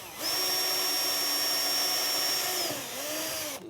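An electric drill-screwdriver drives a screw in a beginner's workshop, its motor whining steadily and loud for about two and a half seconds, then dipping in pitch and rising again briefly before stopping.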